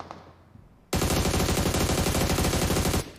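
Sudden long burst of rapid automatic gunfire in BGMI (PUBG Mobile), loud and close, cutting in after a near-silent moment and running continuously for about two seconds before stopping.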